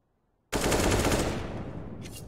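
Sustained rapid gunfire from a Counter-Strike esports match, a loud burst of automatic shots starting abruptly and rattling on continuously, tapering slightly toward the end.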